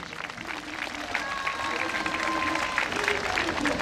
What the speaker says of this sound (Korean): 우리 한번 박수 한번 크게.